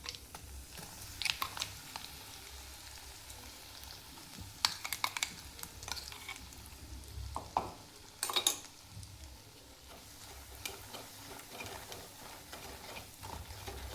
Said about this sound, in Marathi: तेलामध्ये भाजून घ्यायचे वाटण.